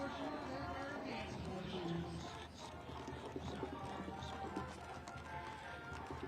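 Horses' hooves clip-clop through a rodeo parade, a steady, overlapping rhythm of several animals stepping at moderate distance amid crowd chatter and street noise.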